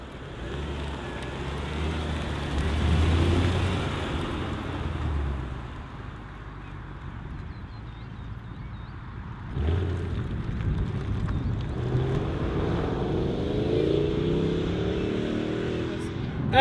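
A 2005 Mercedes CLS 55 AMG accelerating hard at high speed, heard from inside the cabin as a steady engine drone mixed with road and wind roar, with a surge in power partway through and a voice speaking over it.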